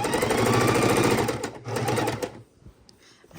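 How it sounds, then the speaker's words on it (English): A sewing machine stitching quilt binding runs in a steady fast whir, pauses briefly, runs again, then stops, leaving quiet room sound. "we're doing it this one by sewing machine instead of hand stitching"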